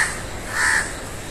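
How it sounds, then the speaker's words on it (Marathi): A crow perched on a pillar near a lighthouse on a coconut-palm coast gives one loud, harsh caw close by, with no other sounds. "हे एक स्तंभ आहे ज्याच्यावरती हा कावळा बसलाय."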